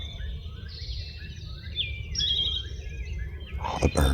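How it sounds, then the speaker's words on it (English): Several birds sing at dawn on a spring morning, soft and somewhat distant, with overlapping chirps, whistled phrases and a brief trill over a quiet low background hum. "All the birds are waking up."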